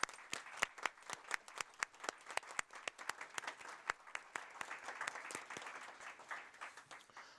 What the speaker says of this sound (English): Let's take a moment and give them a rousing round of applause